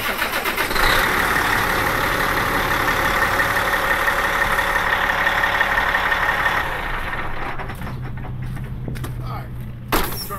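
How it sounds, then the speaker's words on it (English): A truck engine idles steadily and loudly through a pre-trip inspection while the steering wheel is turned. A constant mid-pitched drone fills most of the stretch, then eases, with a brief knock near the end. "I'm going to turn the steering wheel."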